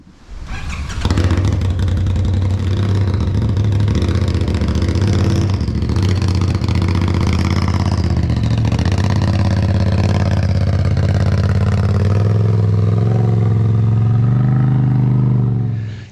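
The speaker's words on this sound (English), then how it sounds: "pull the RZR out of the shop" A 2021 Polaris RZR Pro XP Ultimate UTV built for short course racing runs loud and close, its engine revving steadily and climbing in pitch as it pulls out of the shop, with no talk over it.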